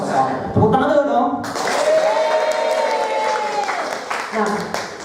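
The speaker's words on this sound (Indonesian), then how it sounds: "Tepuk tangan dulu dong." Audience of junior high school teachers at a motivational training session applauds on cue, steady clapping mixed with voices and a speaker talking over it.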